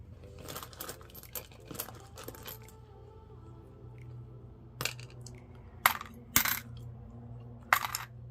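Pennies, nickels and dimes clink and rattle as they are handled, with several sharp drops onto a hard surface standing out clearly in a quiet room.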